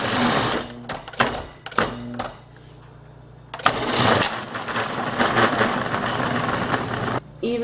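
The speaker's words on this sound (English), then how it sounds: "have my coarse grater on my food processor, and I'm going to grate it" A food processor fitted with a coarse grater runs on frozen homemade vegan cheese, first in short stop-start bursts, then a steady loud whirring grind after a quiet pause.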